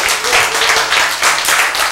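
A congregation at a church service claps in steady rhythmic bursts, loud and close, lasting throughout without a pause.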